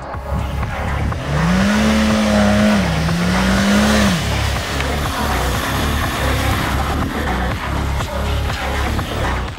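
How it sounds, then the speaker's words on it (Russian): A Chery Tiggo 8 Pro Max SUV with its tyres let down, stability control off and the gearbox in second, climbs a small sandy hill. The engine drones loudly and steadily close by, with a rising then falling rev note and no talking. "Давайте попробуем по песку проехаться."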